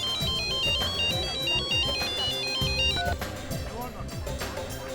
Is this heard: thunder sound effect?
no